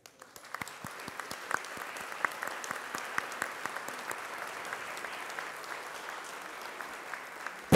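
A large audience claps steadily at the opening ceremony of the constitutional judicial year in Lima, a sustained, even roar of many hands heard from within the hall, with no voices over it.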